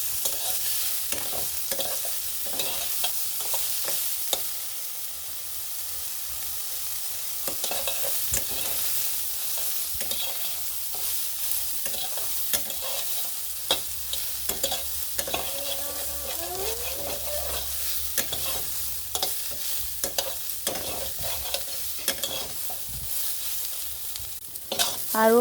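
Soybean chunks with salt and turmeric frying in a pan for a minute or so, with steady sizzling and repeated stirring scrapes throughout, close and fairly loud, no talking.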